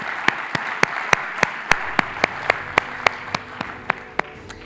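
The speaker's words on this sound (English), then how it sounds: "A big applause for all of them." An audience at a conference closing ceremony applauds the judges, a diffuse crowd wash punctuated by a regular series of sharp, prominent claps from one nearby pair of hands, steady throughout.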